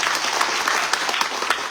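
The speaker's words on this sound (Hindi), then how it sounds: "एक बार जोरदार ताली हम दे सकते हैं" Congregation at a live Christmas church service breaking into brief, vigorous applause, dense hand clapping filling the room with sharper individual claps standing out.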